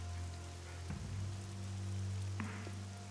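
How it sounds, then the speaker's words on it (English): Rain patters in the survival video game 7 Days to Die, a faint steady wash under a low constant hum, with a couple of brief soft knocks in the game. "Because it's always bloody raining for me."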